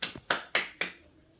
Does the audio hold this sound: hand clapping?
yes